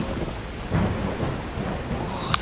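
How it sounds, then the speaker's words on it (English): Thunder rolling during a rainstorm in the video game Skyrim, a low rumble swelling under steady rain patter, with no one talking. "Oh, that lightning strike."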